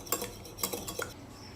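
Eggs whisked in a bowl for French toast, a utensil tapping and scraping against the dish in a few quick, close strokes with no talking.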